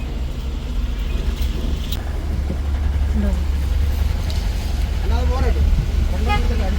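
A vehicle reversing onto a boat at a harbour, with a car horn tooting briefly amid a steady engine rumble, while people talk nearby.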